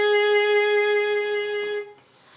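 A bowed string instrument holds one long, clear sustained note from a song, rich in overtones, alone and steady before fading out after about two seconds.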